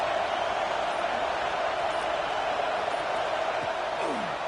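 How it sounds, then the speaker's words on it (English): A large football stadium crowd roars steadily for the defense during a college game against Syracuse, a dense, loud wash of cheering and noise that holds constant throughout without a break. "Listen to this crowd just shaking the girders of this place, trying to help their defense."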